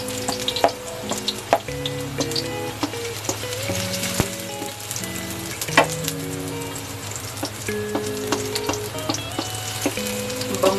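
Garlic sizzles and fries in a pan with oil alongside onions, a steady close crackle with frequent clicks and taps of stirring throughout, no voices.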